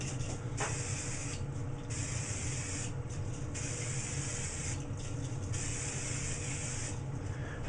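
Hairspray spritzed onto a pencil sketch as a fixative, in several short hissing sprays separated by brief pauses, close and fairly loud over a low background hum.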